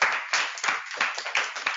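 A small audience at a leadership session claps, a brief run of sharp, uneven handclaps with slight reverb, close and fairly loud.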